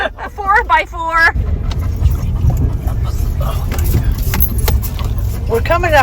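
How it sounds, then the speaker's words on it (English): 4x4 truck jolting along a rough road toward a Colorado River campsite, steady low engine rumble with rattles and bumps, near and continuous, with voices briefly talking at the start and end. "Thank God she's got a truck."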